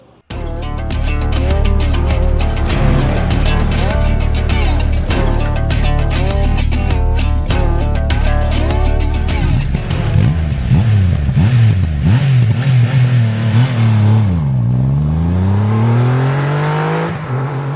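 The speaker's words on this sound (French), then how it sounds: "Et nous voici à bord de cette nouvelle Triumph Rocket 3 Storm. Waouh, ça sonne bien" A Triumph Rocket 3 Storm motorcycle's 2500 cc engine roars loudly and continuously, revving up and down through repeated rising and falling sweeps, close by with no talking.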